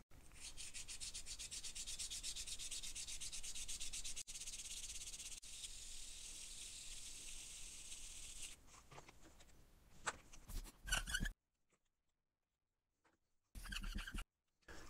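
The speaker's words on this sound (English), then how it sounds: "I'm just going to rub them against each other" Two blocks rubbed hard against each other in a heat-transfer experiment give a steady, loud scraping hiss for about eight seconds, then scattered fainter rubs and a silent pause.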